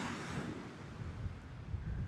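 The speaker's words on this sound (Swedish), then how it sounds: "Och vilka vågor som kommer in här alltså." Waves roll in and break steadily on a black lava-sand beach, a continuous loud roar of surf mixed with gusty wind buffeting the microphone, with no voices.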